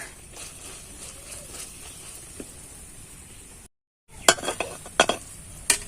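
A homemade bread loaf browns in a hot wok with a soft, steady sizzle. Faint scraping and stirring run under it, then a brief silence, then sharper clinks and scrapes of a utensil against the metal pan.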